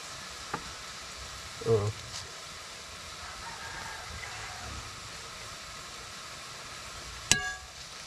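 Spring onion hits a pan of sautéed fern and mushrooms, giving a faint, steady frying hiss broken by a couple of brief utensil clatters.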